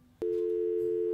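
A telephone dial tone rings out while a call is placed to Tencent, a steady continuous tone starting abruptly after a brief quiet moment and holding loud and unbroken to the end.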